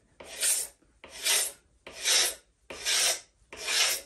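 A knife blade scrapes varnish off a wooden surface in five slow, evenly spaced, hissing strokes, close and clear with no voices.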